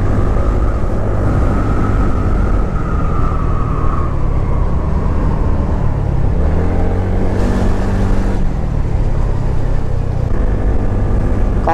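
A TVS Ntorq 125 scooter in race mode accelerates with a continuous loud engine whine, its pitch rising and falling through several surges over a steady roar of road and wind noise.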